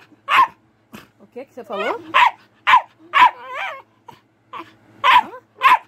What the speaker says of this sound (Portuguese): Para de latir. Engole o latido.